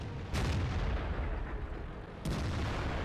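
Two heavy tank cannon shots in World of Tanks boom out, one near the start and another about two seconds later, each a loud broadband blast over a constant low battle rumble.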